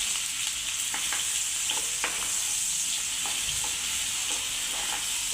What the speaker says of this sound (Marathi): पहिल्यांदा तर कांदा तळून घेऊया.